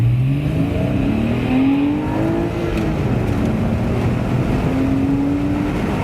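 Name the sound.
Porsche flat-six engine on racetrack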